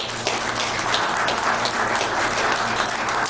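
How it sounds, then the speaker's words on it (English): A lecture audience at a benefits talk gives the speakers a round of applause, dense sustained clapping from many people throughout, with a low steady hum beneath it. "So, speakers, a big round of applause here."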